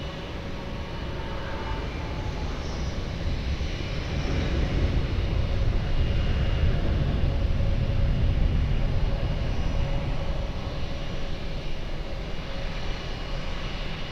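An airliner landing on runway 20 at Lisbon Airport, a steady loud engine roar and low rumble that builds gently toward the middle and then holds, with no talk.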